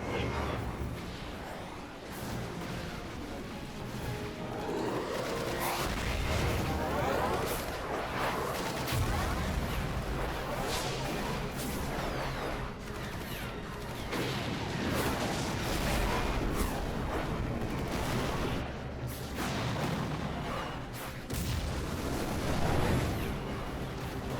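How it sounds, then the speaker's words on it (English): Battle scene in Final Fantasy XII: The Zodiac Age with cannon fire, a dense continuous roar of booms, blasts and whooshes layered over each other, loud and sustained throughout with no clear gaps. "Give word to the cannons. Make ready and fire."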